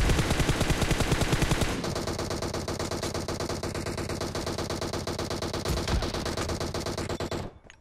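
Rapid automatic gunfire in PUBG Mobile during a school-area fight, a dense fast stream of close shots, then a steadier burst run continuing for several seconds before cutting off abruptly.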